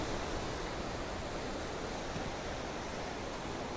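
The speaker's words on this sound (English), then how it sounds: "You can see it's really, really windy. The waves are really kicking up." Strong wind roars steadily at the end of a jetty, with waves kicking up and surf crashing nearby in a dense, continuous wash of noise throughout.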